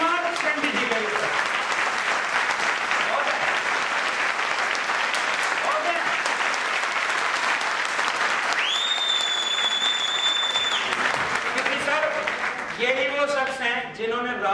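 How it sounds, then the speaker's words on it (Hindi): A large audience at a network marketing event breaks into loud, sustained applause, dense clapping that runs throughout with cheering, a brief whistle-like tone, and voices rising near the end. "तो एक बार जबरदस्त तालियां होनी चाहिए"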